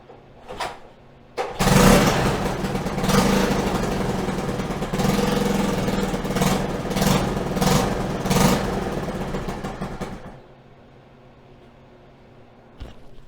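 A Honda ATC 90 engine, freshly swapped in, cranks with a couple of short bursts, then catches and runs with an uneven, revving mid-pitched putter for several seconds before cutting off, leaving faint background noise and a brief knock near the end.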